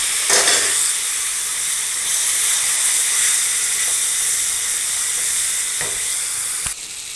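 Curry leaves sizzling loudly in hot oil for curry leaf thokku, a bright, hissing fry close by that keeps going with a few stirring knocks, ending in a sharp clack, no talking.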